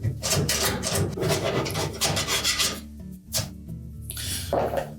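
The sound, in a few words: stiff putty knife scraping old oven seal adhesive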